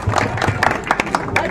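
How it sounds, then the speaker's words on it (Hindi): A Hindi-speaking political gathering welcomes a speaker with a short burst of audience clapping mixed with crowd murmur, over and under a voice on the microphone. "तालियों से स्वागत।"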